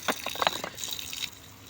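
Water splashes and drips from the outlet of a solar-powered DC water pump run on a single panel, with short spattering bursts that thin to a steady trickle; no one talks.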